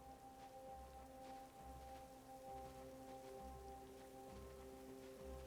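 Steady rain patters down across the whole stretch in a video game, a soft continuous hiss with a low sustained hum of background tones beneath it.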